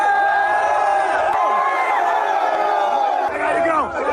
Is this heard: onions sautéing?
no